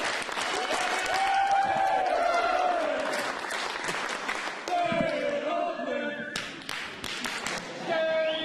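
A crowd at an Oakland press conference cheering and applauding, with dense clapping and voices for several seconds, then a brief dip before the clapping resumes.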